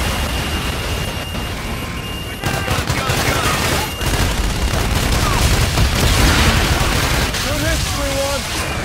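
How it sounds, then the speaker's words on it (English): In the game Infinite Warfare, an aircraft strafes on a gun run, and dense bursts of gunfire and booms roll loudly beneath radio-style voices and rumbling ambience. "Roger, inbound for gun run"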